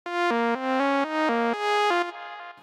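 A dry, clean synth sine wave without effects plays a short stepping melody of sustained notes, bright and steady with no added texture, alone and fairly loud.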